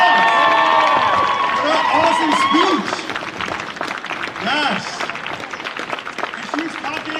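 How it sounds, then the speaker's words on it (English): A crowd at an outdoor justice rally for Daunte Wright and Adam Toledo claps and cheers loudly, the ovation fading to scattered clapping, with shouts and voices over it and a brief spoken phrase. "give her another round of applause"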